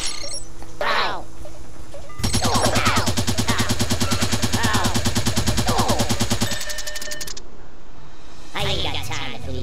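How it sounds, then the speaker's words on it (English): Rapid automatic sentry gun fire in the video game Worms, a dense burst of fast repeated shots lasting several seconds, loud and close, with someone talking over it before and after. "Sentry gun."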